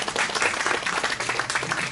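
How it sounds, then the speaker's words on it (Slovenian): An audience at a Slovenian poetry and arts event claps for a performer, brisk overlapping applause holding steady and moderately loud for the full couple of seconds without speech on top. "En aplavz za Saro"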